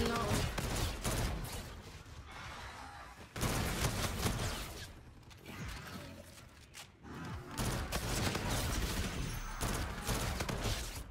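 Sustained rapid fire from an R3K gun in a team deathmatch shooter game, loud repeated volleys broken by short pauses, with a voice talking faintly underneath.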